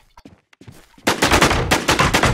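Gunfire in the survival shooter Infestation on the Rocky Ford map. After a few faint, scattered sounds, loud, close, rapid shots break out and continue as repeated sharp bursts to the end.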